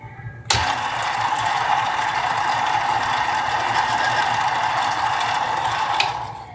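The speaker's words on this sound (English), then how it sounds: "Let me turn this lathe on and mark, make my mark real quick." A metal lathe spinning up abruptly and running at steady speed with a continuous mechanical whir and faint ticking, then a small click near the end, heard close in a workshop.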